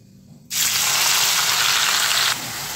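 Grated onion and green chili hit hot oil with cardamom, cinnamon and bay leaf, bursting into a loud, steady hiss that holds for nearly two seconds before easing to a softer sizzle, close up and alone.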